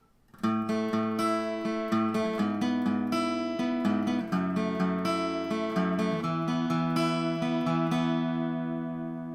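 An acoustic guitar plays the intro of a song at full tempo: clear plucked notes in a steady picking pattern ring out close and alone, fading at the end.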